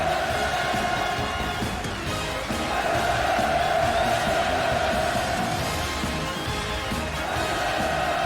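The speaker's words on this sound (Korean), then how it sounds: "열화 같은 만세 환호성이 터져올라 장례를 진감했습니다" A large audience roars with sustained cheers and shouts of hurrah at a celebratory war-victory anniversary performance, a dense, continuous wall of crowd voices holding steady at full volume throughout.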